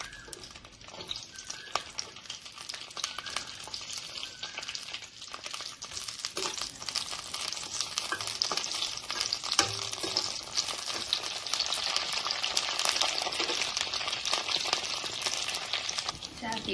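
Washed green chillies frying in a pan of hot oil, giving a continuous crackling sizzle that builds and grows denser over time, with a few clatters from stirring, heard up close.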